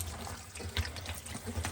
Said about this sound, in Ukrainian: І тепер вода біжить, а я їх отак буду просто промивати.